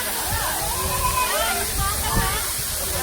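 Katiki waterfall near Araku gives a steady broadband rush of falling water, continuous and fairly loud, with people's voices talking over it throughout.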